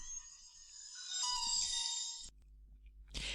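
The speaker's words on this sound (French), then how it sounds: "une merveilleuse mélodie de démarrage" A phone plays a short startup melody: a bright, ringing electronic chime of layered tones that swells for about two seconds, stops abruptly, and is followed by a brief low hum and a burst of noise.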